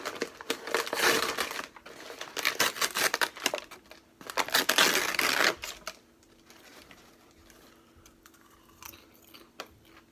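Crinkly rustling and crunching of a snack package being opened, in loud bursts over the first six seconds, then quieter occasional rustles.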